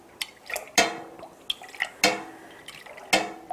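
Milk is stirred briskly to mix in rennet for home cheese making, heard as close, splashy liquid sloshes and utensil clinks against the pot repeating in an uneven rhythm, with no talk.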